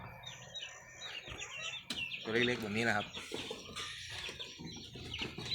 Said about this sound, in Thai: ตัวนี้ก็เป็นไก่ซิลกี้นะครับ